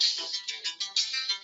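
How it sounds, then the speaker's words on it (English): A cell phone ringtone chirps out as a bright, repeating electronic melody with a quick pulsing rhythm, fairly close and clear, with no one talking over it. "Jeez Louise, whose cell phone is that?"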